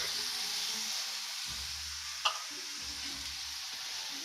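Fresh garlic dropped into a hot pan for a hearts of palm lasagna, a steady close sizzle with a brief clatter as it lands, continuing alone without talk.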